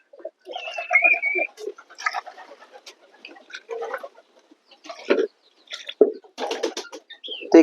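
Domestic pigeons coo and cluck in irregular bursts, close by, with brief pauses between calls and a few soft rustles.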